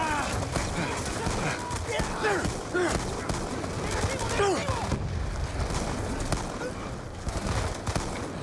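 Dense gunfire in Call of Duty: Black Ops II, a steady fusillade of shots running throughout with scattered louder bursts, heard close and busy alongside other game sounds.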